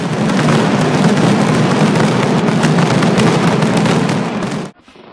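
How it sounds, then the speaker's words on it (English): Mascletà daytime fireworks during the Fallas festival in Valencia crack and boom in a dense, relentless barrage of loud explosions, then cut off abruptly into near silence. "the mascleta, which is a daytime fireworks, takes place at the city hall for about 20 minutes"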